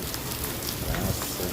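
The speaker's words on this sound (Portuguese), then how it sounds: "Agora no momento, muita chuva, graças a Deus." Heavy rain pours in Lagoa Grande, a dense, even hiss of drops striking surfaces nearby, steady throughout the short stretch with a faint murmur of voices beneath.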